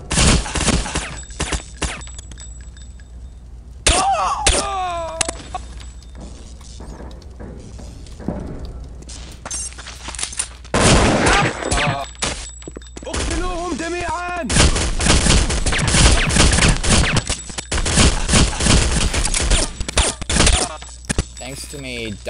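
Gunfire in the Counter-Strike: Condition Zero video game comes in repeated clusters of sharp shots and bursts over the length, loud and close, with a voice talking between them.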